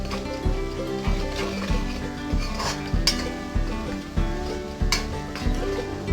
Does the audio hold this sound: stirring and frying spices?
yes